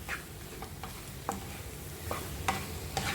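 Spoon scraping and stirring chicken through a sizzling onion and potato mix in a pan, a series of soft irregular scrapes over a steady low frying hiss, no voices.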